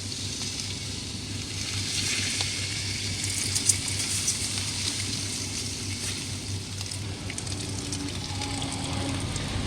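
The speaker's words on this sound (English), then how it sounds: "So I'm just going to cool it off with water." Water poured onto an overheated car engine makes a continuous hissing sizzle with a low steady hum underneath, with faint pops scattered throughout.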